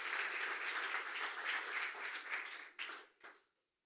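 A church congregation gives a dense burst of applause that holds steady for a few seconds, then thins into a few last claps and stops.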